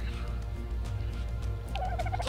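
A bird gives a sudden loud gobbling squawk near the end, following a low steady rumble.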